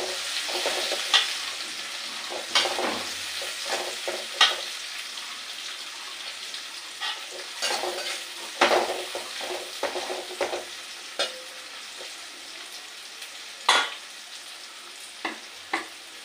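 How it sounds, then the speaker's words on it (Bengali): Chopped onions fry in a pan with a steady soft sizzle and crackle, broken by repeated stirring scrapes and clicks, close by, with no talking. "এগুলো লাল লাল করে একটু ভাজি করে নেবো"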